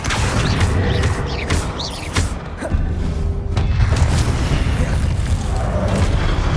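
Fiery Confringo spell blasts in the Hogwarts Legacy video game, a dense run of booming explosions and crashing impacts, loud and close, with no talk over them.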